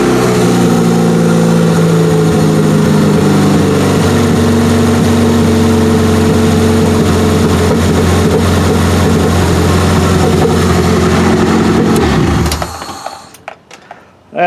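An old race car engine starts and settles into a loud, steady idle with a slight miss, running close for about twelve seconds before cutting off abruptly.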